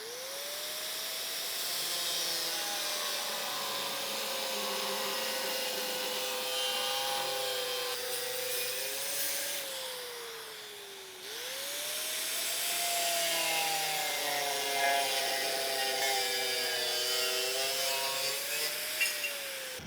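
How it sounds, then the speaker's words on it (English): A cutoff wheel rips straight lines in metal for a Jeep LJ rocker guard install, a steady high whining grind in two long passes separated by a brief pause. "we'll take our cutoff wheel and we're going to rip these straight lines"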